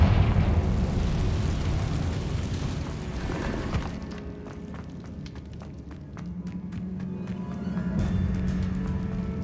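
Fiery Confringo blast spell in Hogwarts Legacy, a loud rushing burst of flame that roars for several seconds and then thins into crackling, popping debris and scattered impacts.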